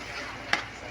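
Food frying in a pan gives a soft steady sizzle, with a single brief scrape of stirring about halfway through.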